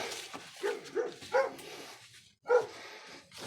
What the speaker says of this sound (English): Got the dog stirred up.